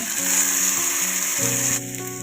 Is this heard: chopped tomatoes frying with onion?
yes